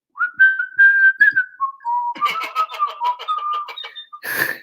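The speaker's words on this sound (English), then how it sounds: "So I was whistling like" A person whistles a short, bird-like tune of sliding, held notes and then quicker chirpy phrases, close and clear with brief gaps between, ending in a short breathy burst.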